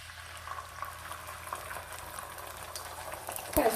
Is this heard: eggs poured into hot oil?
yes